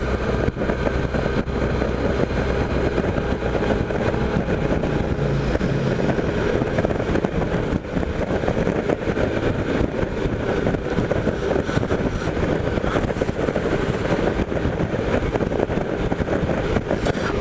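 A Suzuki Burgman 650 scooter cruises on a Sydney road, its engine drone buried under loud, constant wind roar throughout.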